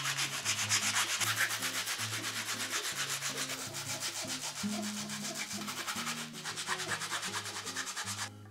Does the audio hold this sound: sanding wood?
yes